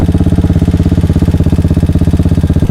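A Triumph Sprint ST motorcycle engine thrums loudly and up close while riding, a steady, fast pulsing beat that holds an even pitch throughout.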